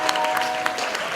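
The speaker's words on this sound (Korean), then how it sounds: "다시 한번 큰 박수 부탁드리겠습니다" Brief burst of audience applause at a middle-school debate final, steady dense clapping at moderate level.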